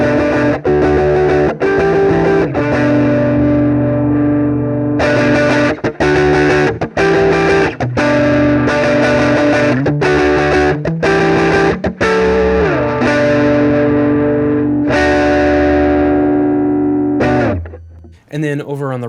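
An electric guitar runs through an Old Blood Dark Star v2 effects pedal with the tone turned up for a brighter, distorted sound, with a series of loud sustained chords and short gaps, fading out at the end.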